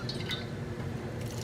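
Water poured into a pan holding jaggery, a soft, faint splashing and trickling with small clinks, close by and steady, with no voices.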